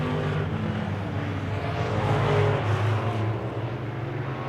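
Wissota Midwest Modified race cars on a dirt oval, a steady, distant engine drone from the field that holds without a break, with a faint swell as the cars come around.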